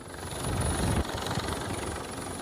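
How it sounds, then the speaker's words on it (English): An Icelandic Coast Guard helicopter flies over a volcanic eruption in southwest Iceland, its rotor and engine making a steady, rumbling drone with low thumping. "An Icelandic Coast Guard helicopter braving blackened skies to capture these extraordinary scenes"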